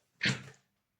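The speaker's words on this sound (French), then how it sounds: "Attendez, je vais éternuer, excusez-moi." A single sharp woman's sneeze, close and brief, bursting out then fading within half a second.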